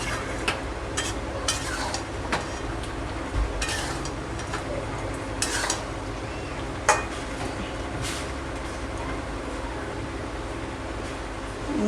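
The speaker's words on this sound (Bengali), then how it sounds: "আমি হাই ফ্লেমে আরও 5 মিনিট এবার কষিয়ে নেব ভালো করে" Chicken being sautéed on high flame, a low steady sizzle broken by irregular clinks and scrapes of a spatula against the pan, close and moderately quiet, without speech.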